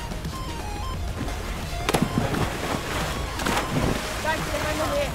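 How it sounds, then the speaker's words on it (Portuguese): In the video game Party Animals, a bomb goes off with a couple of booming bursts amid game noise, while excited players talk and shout over it. "Bomba, corre!"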